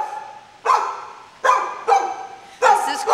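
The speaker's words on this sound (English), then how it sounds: "We got Nikki barking in the back" A dog barks at an adoption shelter, four loud, evenly spaced barks ringing out in a reverberant room.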